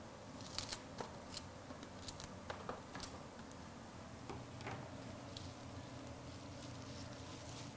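Scissors cut a flower stem during a vase arrangement, giving a few faint, crisp snips and clicks close by over a steady low background hiss, with no talk.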